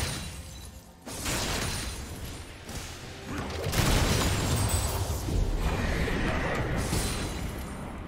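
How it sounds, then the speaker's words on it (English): A turret being destroyed in League of Legends, heard as a loud, crumbling explosive burst with shattering debris that swells and holds at full strength, coming after a brief quieter moment. "Red team's turret has been destroyed."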